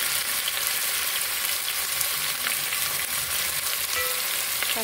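Onions and spices frying in a pan for an Andhra-style Rayalaseema chicken curry, a steady close-up sizzle with occasional stirring and no talk.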